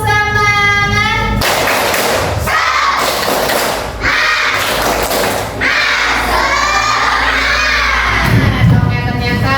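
Schoolchildren in a classroom doing a rhythmic spirit clap with loud shouting and cheering, sharp bursts of clapping and thumps between voices, close and energetic throughout.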